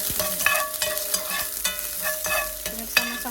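Garlic and onion fry in bacon grease for pork ribs caldereta, a steady close sizzle broken by repeated scraping stirs of the spoon against the pan.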